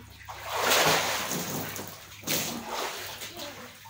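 Water splashes and sloshes in a water tank as someone plunges in, with a broad splashy burst early and another surge later, loud and close, while people shout and talk in the background.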